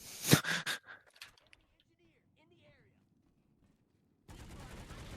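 Gunfire in the online shooter Planetside 2 comes as a quick burst of sharp automatic shots at the start, followed by quiet, a few faint voices, and then a dense rush of noisy game sound near the end.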